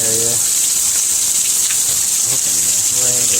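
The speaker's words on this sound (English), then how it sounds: "Walking along, and then start raining this hard." Heavy rain pours down steadily outdoors under a small awning, a dense, loud, even hiss with no letup, and brief muffled voices at the start and end.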